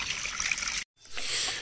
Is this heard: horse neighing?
no